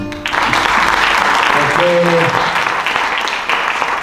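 An audience claps together at a poetry event in Lamezia Terme, a dense, loud burst of applause sustained for several seconds as one voice speaks briefly over it.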